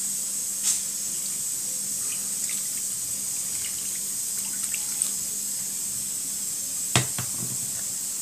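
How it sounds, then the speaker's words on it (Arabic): Water poured from a vessel onto steamed barley couscous in a wide clay bowl, a steady close stream with a couple of brief splashing knocks. "غنديرو لها شويه الماء"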